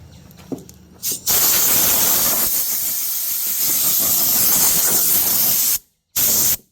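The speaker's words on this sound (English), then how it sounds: "You need to blow them off with compressed air" Compressed air blows metal shavings off the painted body of a Dodge Challenger during hood pin installation, a loud, harsh hiss in long sustained bursts, cut off by a short silence near the end before resuming.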